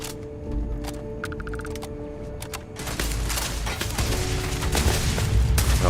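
Gunfire from turrets during a firefight in the video game Starfield, dense bursts of shots and booms layered over game music and effects, loud and continuous.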